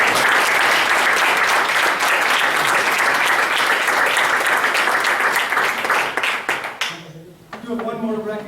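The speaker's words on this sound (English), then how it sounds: "Let's give them a round of applause." An audience at a school board of education meeting gives a sustained round of applause, dense and loud clapping that fades after several seconds into a voice speaking into a microphone.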